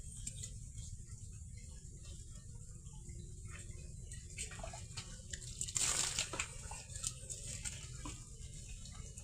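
Steady gentle water flowing through a channel, trickling and splashing continuously, with a brief louder gush midway; no voices.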